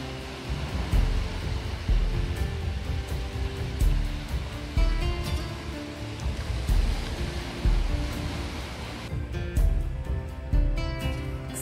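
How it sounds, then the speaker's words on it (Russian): Sea waves wash onto the shore at night in Zelenogradsk in autumn, a steady, continuous roar of surf with occasional louder breaking swells, no voices heard. "Да, море в темноте практически не видно, но зато очень хорошо слышно."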